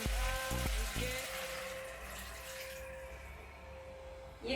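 Water is poured into a pan of frying tomato paste while cooking, giving a soft, splashing stream after a few brief clatters and a thin steady tone.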